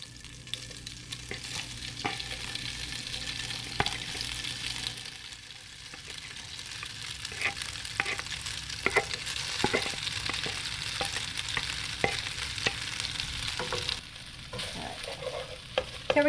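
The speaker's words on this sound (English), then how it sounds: "So we're just going to toast up the pasta a little bit." Dry pasta toasting and sizzling in a hot frying pan while being stirred, a steady close crackle with scraping stir strokes throughout, no talking.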